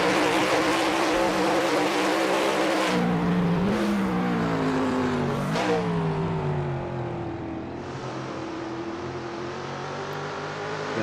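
Trans Am race cars roaring past at Road America, a loud continuous engine howl with pitch shifts and Doppler sweeps as several cars pass close by, fading slightly toward the end.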